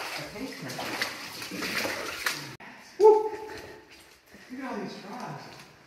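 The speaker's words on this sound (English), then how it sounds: "walking through the water." Feet slosh and splash through shallow water inside a cave, with soft intermittent splashes and one sharper splash partway through, heard up close while people talk over them.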